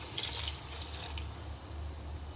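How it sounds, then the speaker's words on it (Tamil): Water is poured into beans curry cooking in a pan, giving a steady splashing, rushing flow close by that runs throughout. "தேவையான அளவு தண்ணி ஊற்றிக்கோங்க"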